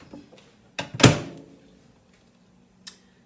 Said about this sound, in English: And these go to the microwave.